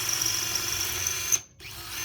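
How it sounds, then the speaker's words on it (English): A power drill bores a hole in a knee bone model during a patella osteotomy demonstration, giving a steady high whine that stops briefly and then picks up again, close and clear. "So I'm going to do a little drill hole here"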